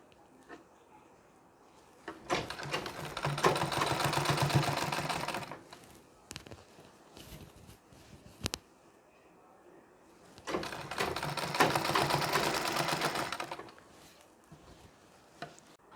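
A sewing machine runs a long, coarse basting stitch along a strip of Nauvari saree fabric in two bursts of steady rapid needle clatter, separated by quieter handling noises and brief clicks.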